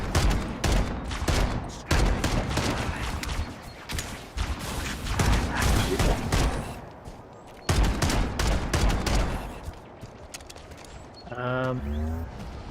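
Video game gunfire, with plasma weapons also in play, comes as repeated loud volleys of close shots separated by brief pauses and mechanical clicks, with a player talking over the shooting.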